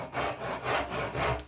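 A freshly sharpened crosscut handsaw cuts through a piece of cherry hardwood in steady, rhythmic rasping strokes, about four close, loud back-and-forth passes with no voices.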